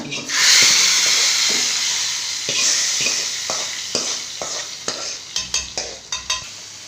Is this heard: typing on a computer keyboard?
no